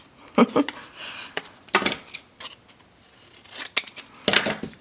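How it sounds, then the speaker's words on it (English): Scissors snip the corners off a scrapbook or mini album cover, several sharp close cuts in short bursts separated by brief pauses, with no speech. "And cut the corners off."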